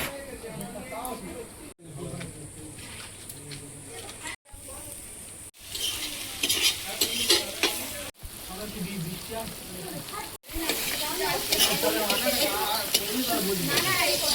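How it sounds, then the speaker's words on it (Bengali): Onions and spices for chicken curry sauté loudly in a pan, with a dense continuous sizzle and frequent stirring scrapes, some abrupt cuts, and people talking over it. "চিকেনের জন্য এখানে পেঁয়াজ আর যাবতীয় যা যা মশলা মোটামুটি সব কষানো শুরু হয়েছে।"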